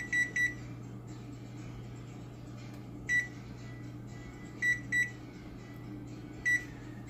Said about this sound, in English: we got this ham in the oven and I think I want to put it on about 375